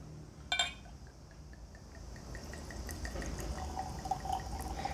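Suntory World Whisky Ao, a Japanese blended whisky from a plastic screw-cap bottle, poured generously into a glass; a brief clink at the start, then a steady soft trickle of liquid.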